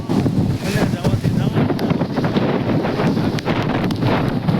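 A sudden mini-cyclone sweeps Chalala town in Gujarat out of season, with strong wind roaring and buffeting the microphone over the steady rush of rain, loud and continuous throughout.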